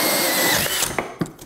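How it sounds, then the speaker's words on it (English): A power drill runs a new bit through a scrap piece of drywall, a steady close whir with a few sharp clicks and bumps as it breaks through near the end. "take a scrap piece of drywall, take the new bit, drill your hole"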